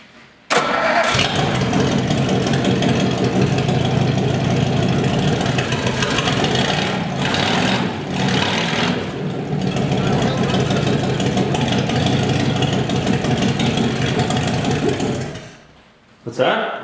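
A 1956 Ford engine cranks and catches, then runs loudly at a steady idle for a long stretch before cutting out near the end.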